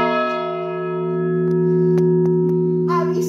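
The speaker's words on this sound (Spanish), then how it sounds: "Bueno, campana más grande. Campana de San Martín" The largest bell, dedicated to San Martín, rings in the parish bell tower of Callosa de Segura with a loud, sustained, close tone and a long resonant hum, punctuated by a few sharp metallic knocks.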